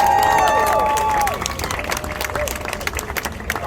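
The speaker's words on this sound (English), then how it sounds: "please give a big round of applause for our Conservancy staff and volunteers" Crowd applauding conservancy staff and volunteers at an outdoor goat grazing event in Riverside Park, New York City; steady dense clapping rises out of fading talk and carries on to the end.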